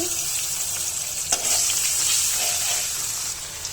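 Onions frying in hot oil after koi fish has been lifted out of the pan, a steady loud sizzle with a brief clatter partway through and no talking.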